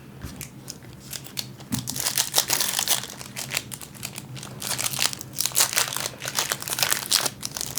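Star Wars Topps Chrome trading card pack wrapper being crinkled and torn open up close, a run of sharp plastic crackles and rustles of varying loudness, no speech.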